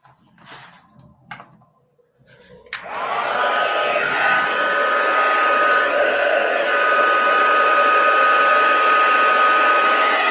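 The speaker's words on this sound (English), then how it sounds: "I'm going to hit this again with my heat gun and just dry it off" A heat gun blasts steadily to dry craft paint, switching on after a few faint handling sounds and then holding a loud, even whirring hiss with a constant tonal hum.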